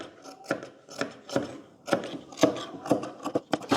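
Scissors cut fabric for a short kurti in a rhythmic series of crisp, close snips, about two per second, with short pauses between them.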